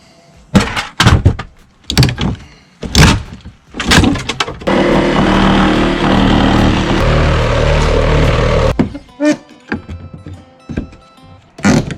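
Heavy thumps and bangs as a Sawzall-cut section of attic framing is knocked down, with a sustained rattling, grinding burst in the middle. The blows are loud and close, irregularly spaced, and no one speaks.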